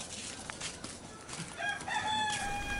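A rooster crows from a few chickens kept at a village home on the slopes near Mount Agung in Bali, one drawn-out crow rising late over faint rustling background noise, moderately distant.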